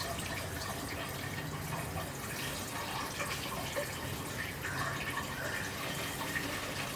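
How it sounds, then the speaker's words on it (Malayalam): Water from a kitchen tap pours steadily over a pressure cooker, a continuous close splashing rush that holds at an even level throughout, with no voices. "ഇങ്ങനെ ടാപ്പ് തുറന്ന് കുറച്ച് വെള്ളം കുക്കറിൻ്റെ മേലെ ഒഴിക്കുന്നത്."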